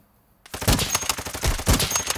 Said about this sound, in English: I'm being sniped from the left.